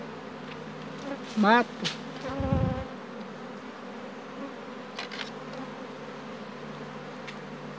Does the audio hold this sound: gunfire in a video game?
no